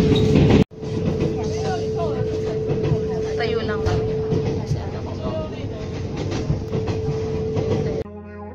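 A train in Taiwan running on its rails, heard from inside a carriage: a steady loud rumble with a sustained whine and rhythmic clickety-clack, a brief dropout near the start, and faint voices under the noise.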